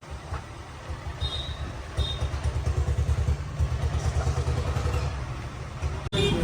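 A farm thresher runs in a field, its engine thumping in a steady, rapid pulse that grows louder after the first couple of seconds and continues with no talking.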